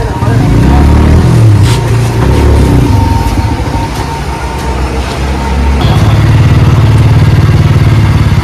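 A scooter engine runs close by during the Assamese Goru Bihu festival, a loud, steady low rumble that shifts to a slightly different, firmer drone partway through.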